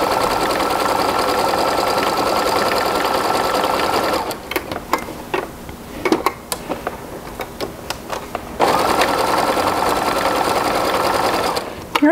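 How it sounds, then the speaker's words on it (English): A sewing machine topstitching straps on fabric runs in a steady fast whir, stops briefly for a few clicks and taps, then resumes stitching at the same rapid pace. "let your sewing machine pull the fabric through itself"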